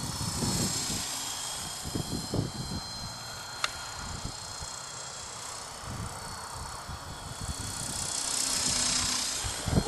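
A Super FP RC airplane flies at full throttle, its motor a steady whine drifting near and far against outdoor wind noise, with a few sharp thumps and no voices.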